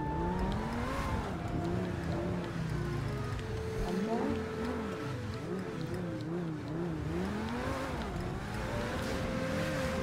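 Car engine driving through an icy, snowy GTA 5 race course, a steady mid-level drone with rising and falling revs that shift pitch throughout, continuous and fairly close.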